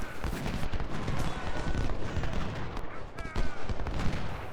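6-pounder cannons fire in the Ultimate General: Civil War video game amid dense battle noise, with heavy booms and crackling volleys packed closely together and rumbling continuously throughout.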